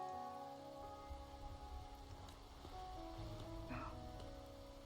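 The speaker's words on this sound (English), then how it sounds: "it rains here all the time now, and I can't get it to stop" Rain falls steadily in the video game Wuthering Waves, a soft, continuous patter under faint tonal game music, quiet and unbroken throughout.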